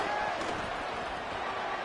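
Stadium crowd in a College Football 27 video game, a Florida Gators home game at the Swamp on third down, producing a steady, moderately quiet broadband roar with no distinct cheers.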